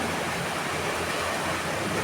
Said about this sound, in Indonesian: sedang hujan.